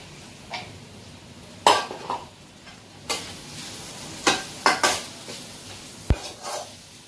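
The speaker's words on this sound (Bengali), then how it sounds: "পেঁয়াজটাকে একটু মোটামুটি ভালো করে ফ্রাই করে নেবো।" Onions frying in a pan with ginger-garlic paste, with a soft sizzle underneath and a series of sharp metal spatula scrapes and clinks against the pan as it is stirred, heard close and without talk.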